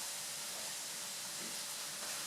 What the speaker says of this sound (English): I'm just frying up and mixing in my mushrooms